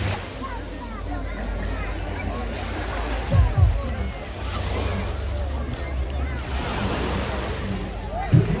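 Sea waves wash onto a crowded beach at Arcadia in Odesa, a steady surf roar with wind buffeting the microphone and the murmur of many people nearby.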